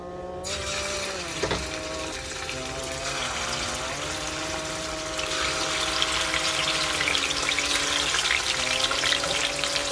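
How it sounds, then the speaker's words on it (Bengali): Aar fish frying in hot oil in a wok makes a steady, close hiss and crackle that continues without a break and grows a little more intense partway through, with no talking. "কড়াইতে তেল দিয়ে দিয়েছি তেল গরম হয়ে গেছে এবার আর মাছগুলো ছেড়ে দেবো"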